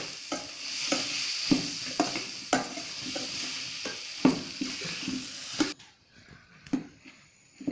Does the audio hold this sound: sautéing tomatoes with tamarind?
yes